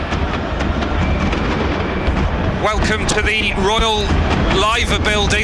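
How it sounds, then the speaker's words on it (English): Fireworks going off during the Liverpool FC Premier League victory parade near the Royal Liver and Cunard buildings, a continuous crackling, booming rumble from a large outdoor crowd scene, with someone talking over it. "I'm sure you can probably hear the fireworks going off"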